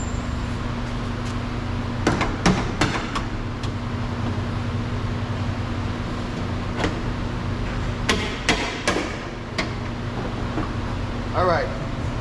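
Sharp knocks and clicks ring out as a tail lamp is knocked loose from a 2018 GMC Terrain, several quick hits in two clusters over a steady background hum, with no talk.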